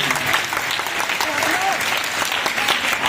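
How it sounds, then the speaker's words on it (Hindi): Loud, sustained applause fills the space for school children performing at a patriotic cultural program, a dense wash of clapping with no break. "एक जोरदार तालियां सबके लिए।"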